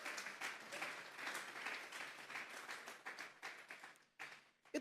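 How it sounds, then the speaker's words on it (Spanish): A church congregation applauds together, a steady wash of many hands clapping at moderate distance that thins out near the end before a final burst. "Vamos a darle un fuerte aplauso pues al Señor"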